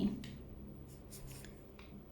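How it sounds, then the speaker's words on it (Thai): A red pen writes on paper, giving a few faint scratchy strokes scattered over a couple of seconds, heard alone against a low room hum. "เขียนปากกาสีแดงด้วยพี่น้อง"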